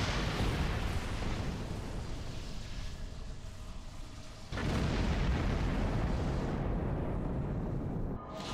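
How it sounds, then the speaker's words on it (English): Starship Horizon blowing up during a Star Trek space battle game, a loud rumbling explosion roaring on for several seconds with a fresh booming burst midway, then a rolling fade. "the horizon gets blown up at the start of Phase 2"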